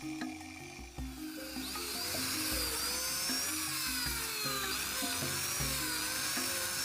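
A small high-pitched drill bores holes in ironwood (ulin) while building a wooden fishing boat, a steady whining motor that rises in pitch and holds for several seconds, close and continuous, with short stutters at the start.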